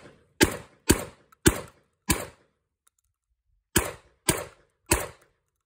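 Kalashnikov KS12 shotgun firing Winchester White Box shells from an 8-round SMG magazine: four sharp, loud shots in steady succession, a brief pause, then three more, each with a short decaying tail.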